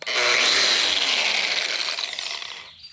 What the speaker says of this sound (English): the grinder works really good